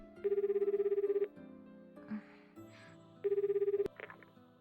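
Phone call ringing tone in the visual novel 9-nine-, a trilling electronic ring burst lasting about a second, a pause with faint soft sounds, then a second identical ring, with background music underneath.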